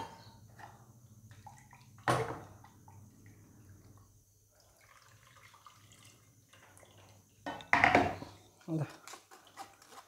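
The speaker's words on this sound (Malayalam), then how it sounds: "മിക്സി ഒന്ന് കഴുകിയെടുക്കുക" Water splashes and sloshes as a mixer grinder jar is rinsed, with two sharp bursts of pouring and rattling against quiet kitchen background and some talk nearby.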